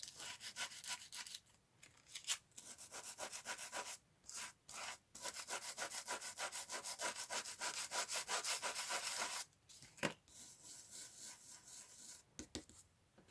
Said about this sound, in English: And then burnish it.